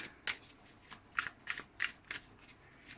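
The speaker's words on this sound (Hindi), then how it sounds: "हम अपने कार्ड्स को शफल करते हैं।" Tarot cards are riffled and shuffled by hand in a quiet room, with about a dozen soft, quick flicks in an uneven rhythm, close and fairly faint.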